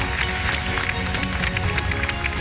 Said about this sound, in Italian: Applauso, dai, applauso, dai.